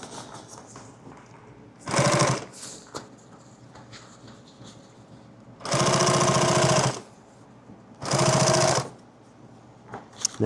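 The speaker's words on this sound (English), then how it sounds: "I'm just going to sew this down here" A sewing machine stitching a laptop bag runs in three bursts, one short, one longer and one short again, with quiet pauses between them as the fabric is repositioned. The motor whirs steadily and close.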